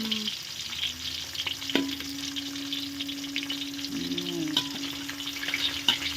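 Mackerel frying crisp in hot oil, a continuous crackling sizzle with occasional spatters and utensil clinks, close and steady throughout, with a low hum underneath.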